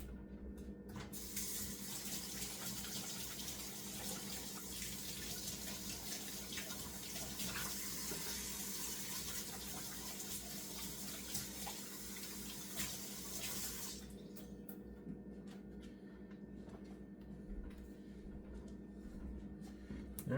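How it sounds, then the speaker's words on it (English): A kitchen faucet runs steadily while hands are washed, a continuous close hiss of flowing water for most of the clip, easing to a quieter trickle near the end. "I'm gonna wash my hands."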